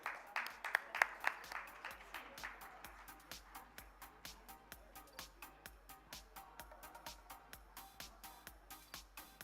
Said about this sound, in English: let's keep the applause going for our chair for the session